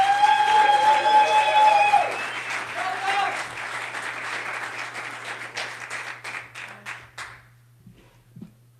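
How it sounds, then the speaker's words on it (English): Audience applause fills a church graduation ceremony, loud steady clapping from a crowd that gradually thins out and fades to scattered claps before stopping. "give a hand of applause for Mr."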